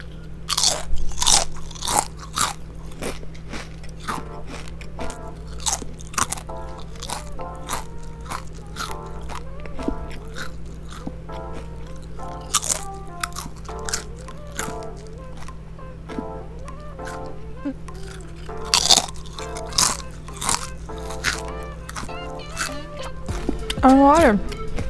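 Doritos chips crunched and chewed close up, a run of sharp bites and crackling crunches at an irregular pace, with quieter chewing between them over a low steady background hum.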